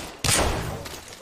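A single gunshot in the video game Apex Legends: one sharp, loud crack that fades over about a second, with quiet before it.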